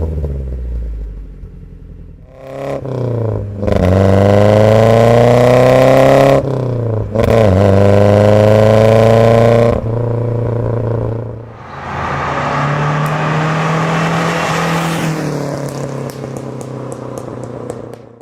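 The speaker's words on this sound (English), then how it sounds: "the first thing you notice in this particular car is the exhaust note" A 1976 Triumph TR7 with a cherry bomb muffler rumbles at idle, then revs hard in two long rising pulls with gear-like shifts in pitch, and settles into a rougher, gravelly drone, loud and close.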